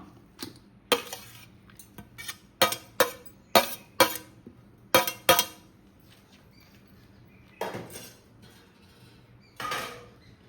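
Beetroot is rubbed across a grater for a pickle in a home kitchen, making a series of sharp, scraping rasps in quick irregular strokes, close and fairly loud, with short pauses between groups and no talking.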